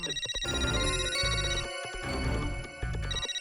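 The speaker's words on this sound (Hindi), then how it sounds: "ये बाघा का फोन है।" A phone ringtone plays continuously, a bright electronic melody with pulsing bell-like tones, fairly close and steady, with no voices.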